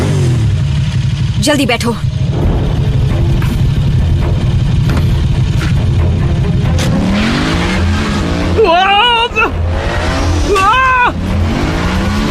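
A motorbike engine revs hard in an animated Transformers Prime scene, with tires squealing and skidding in sharp rising whines over a steady loud rumble, while a voice speaks briefly.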